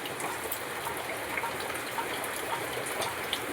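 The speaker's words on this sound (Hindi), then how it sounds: "बाहर भी उतनी तेज़ बारिश हो रही है" Steady, dense rain hissing continuously at a moderate level, with scattered drop patter and no voices.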